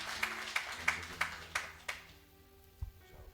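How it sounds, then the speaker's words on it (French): A church congregation at a spiritual revival service claps in a steady rhythm, sharp regular beats about three per second over a sustained low tone, thinning out toward the end. "Nous applaudissons cet esprit de Dieu dans la vie à la gloire de Dieu"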